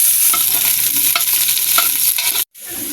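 Garlic and onion frying in oil for ginataang langka, a loud continuous sizzle with spatula scrapes and stirring clatter, close up, cutting off abruptly near the end, no voices.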